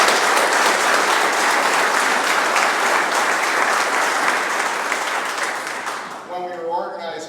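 Big round of applause from a crowd at a ceremony honoring three former mayors, dense clapping that tapers off near the end as a voice begins speaking.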